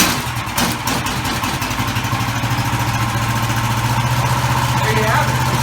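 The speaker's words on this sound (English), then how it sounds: "we're going to go ahead and fire it up and show you guys how it runs" A 420cc go-kart engine running loud and steady after starting, its rapid firing pulse throbbing continuously with a rattling chatter throughout, with some talk mixed in.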